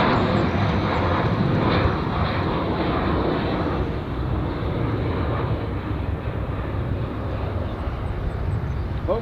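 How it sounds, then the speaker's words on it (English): Airplane taking off from the center runway at O'Hare International Airport, a loud, steady broadband jet roar that holds strong throughout and eases only slightly toward the end, with no talk over it. "We are focusing on the center runway here, and some mostly takeoffs."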